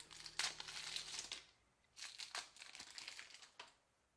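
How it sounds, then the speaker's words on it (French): Yu-Gi-Oh structure deck packaging being unwrapped, with close crinkling and tearing of plastic and cardboard in several bursts separated by a short pause, and no talking. "ce deck de structure qu'on va se déballer tout de suite"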